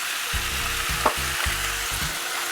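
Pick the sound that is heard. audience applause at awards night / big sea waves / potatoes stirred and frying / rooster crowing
potatoes stirred and frying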